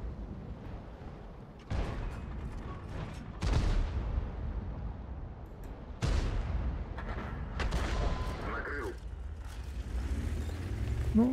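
Several heavy booming artillery shots a few seconds apart from an M53/M55 self-propelled gun in World of Tanks, each a sharp blast followed by a rumbling tail over background engine noise.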